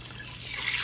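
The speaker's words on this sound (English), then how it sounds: "I'm going to put 3 cups of water in the Instant Pot with it." Three cups of water poured into an Instant Pot over rinsed rice, a brief soft trickle and splash that brightens slightly toward the end.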